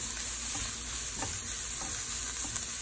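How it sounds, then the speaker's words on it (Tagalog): Garlic sautéing in a pan for vegetable lumpia, a steady soft sizzle with occasional stirring scrapes, close and continuous with no talk. "Isunod na to ang ahos. Atong gid ayuhon og gisal para kumot."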